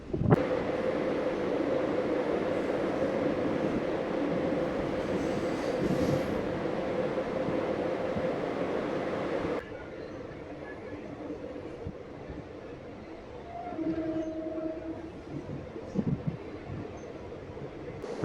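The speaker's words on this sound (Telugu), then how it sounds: "అప్పాయిపల్లి స్టేషన్ నుంచి బయలుదేరిపోయింది మన ట్రైన్" A DEMU train pulls away from Appaipalli station on the Secunderabad–Siddipet line, a loud steady rumble of wheels and engine that drops abruptly to a quieter running drone partway through.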